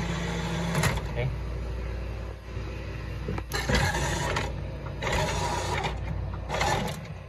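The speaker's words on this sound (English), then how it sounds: "That's legit the motor struggling." Motor of an automatic drive-thru window labouring as the window opens, a strained mechanical grinding and scraping in uneven surges under a steady background hum.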